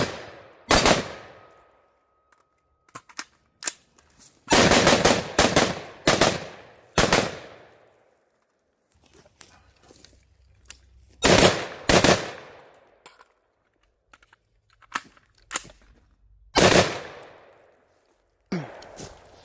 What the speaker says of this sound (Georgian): ეხლა რამოდენიმე გასროლა გავაკეთეთ კიდე